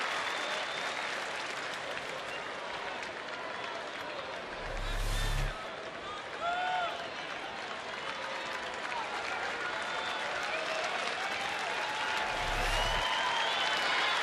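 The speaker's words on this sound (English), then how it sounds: "Crowd now starting to get a little rhythmic clapping going for Matt Garza" Baseball stadium crowd at a Rangers home game against the Angels in September 2013, with sustained applause and clapping building steadily from the stands, broad and distant, under a broadcaster's voice with a few brief louder thumps.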